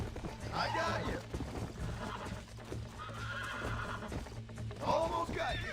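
A horse in the Western video game Red Dead Redemption whinnies and snorts amid clip-clopping hooves, close and fairly loud, with someone talking over the animal noises.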